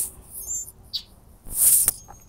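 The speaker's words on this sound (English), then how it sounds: "Birds are tripping out, basically." Birds chirp outdoors in a few quick, high, sharp bursts, one louder flurry near the end, fairly close over a quiet background with no talking.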